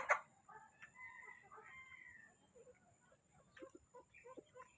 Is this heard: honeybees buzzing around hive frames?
no